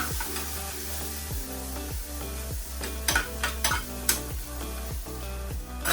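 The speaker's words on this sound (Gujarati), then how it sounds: "આ થઈ ગયા બટાકા, એને થોડા હલાવી લઉં" Potatoes stirred in hot oil with cumin, ginger and chili for a Gujarati dry potato dish, a steady close sizzle under repeated scraping spoon strokes with a few sharper clinks of the utensil against the pan.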